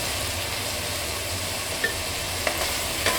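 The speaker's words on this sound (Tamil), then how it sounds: "நல்லா இந்த எண்ணெயிலே நல்லா வதங்கிட்டோம்." Beans, peas, carrot and potato sautéed in oil for pulao, giving a steady low sizzle with a few soft clicks of a spoon against the pan near the end.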